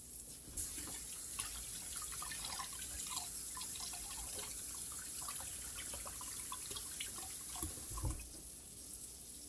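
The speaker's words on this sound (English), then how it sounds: "I'll wash my hands." Hands are washed under a running kitchen tap: a steady, moderately faint stream of water with small splashes and drips, with no talking.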